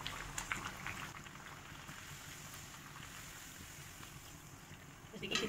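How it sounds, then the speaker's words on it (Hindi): Pumpkin kachori puris drop into hot oil and fry with a soft, continuous bubbling hiss, faint and steady, swelling slightly at the end. "अब मैं पूरियां डालूंगी।"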